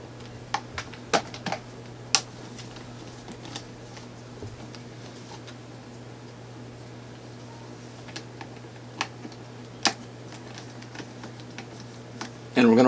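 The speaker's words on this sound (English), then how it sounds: "So here we've got a couple of screws, and we're just going to take these screws off." Screws being removed from a dirty, slow-running fan's motor assembly: scattered sharp metallic ticks and clicks from the screwdriver over a steady low electrical hum, ending in a brief louder clatter.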